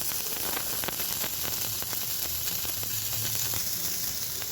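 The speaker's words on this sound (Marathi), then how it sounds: "आता या बाजूने सुद्धा मी पाच मिनटं भाजून देणार आहे म्हणजे चांगला फ्राय होतो" Surmai kingfish pieces fry in a pan for a crisp Malvani-style fry, making a soft, even sizzle dotted with light crackles and pops.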